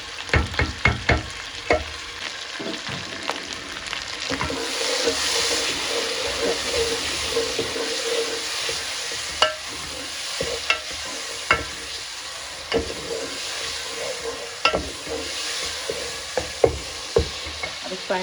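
Tomatoes and green chillies fry in a pan with a steady sizzle, and a spoon stirs them in repeated scraping knocks that grow more frequent later on.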